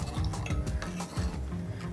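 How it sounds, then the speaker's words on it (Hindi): A spoon scrapes and clinks against a pot while milk heats toward a boil for sheer khurma, with steady, close stirring strokes over a soft bubbling hiss. "दूध उबलते वक्त इसको स्टर करते रहिए सो दैट ये नीचे चिपके ना।"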